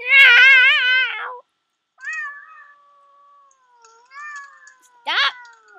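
A person imitates a cat over a voice call, giving a long wavering meow followed by a few shorter mews and a sharp final squeal, each close and clear with pauses between.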